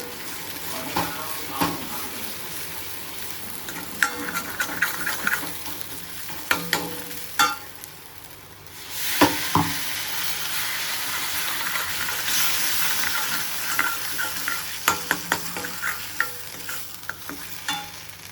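A masala paste seasoned with black chili powder, turmeric, red and Kashmiri chili and salt is stirred and roasted in a pan for a spicy chicken curry. Frequent scraping strokes of the spoon run over a loud, steady sizzle.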